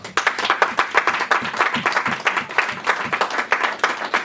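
A church congregation claps steadily in rhythm during a French worship service. The sharp, quick claps are loud and close and keep a regular beat throughout.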